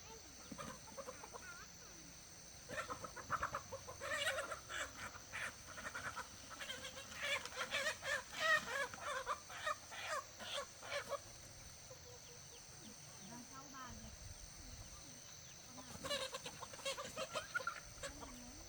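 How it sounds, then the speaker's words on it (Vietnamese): Black chickens with black legs clucking around a rural farmyard, scattered calls and clucks rising and falling across the clip under steady background hiss, with some distant talk and other livestock sounds mixed in. "Cái gà đen này nó cũng đen cả chân kìa"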